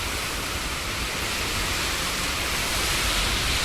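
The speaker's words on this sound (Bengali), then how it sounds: "বাইরে প্রচুর বৃষ্টি হচ্ছে" Heavy rain during a storm pours down outside, a steady dense wash of noise that stays loud and unbroken throughout, with no voices.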